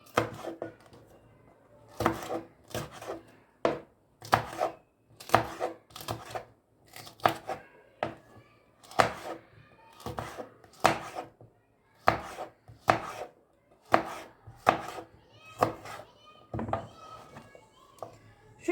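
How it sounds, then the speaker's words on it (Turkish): A knife chops peppers repeatedly on a cutting board in quick irregular bursts of sharp taps, close and fairly quiet, with no talking. "Şimdi doğrama işlemine başladım."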